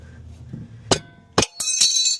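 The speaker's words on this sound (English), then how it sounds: "I have two of these like really large adjustable wrenches. Highly recommend them. Makes it a whole lot easier. But you want to go ahead and loosen these." Large adjustable wrenches work loose the tie rod nuts on an INFINITI FX-series SUV, giving a few sharp metallic clinks and knocks spaced apart, the last ones merging into a brief ringing scrape.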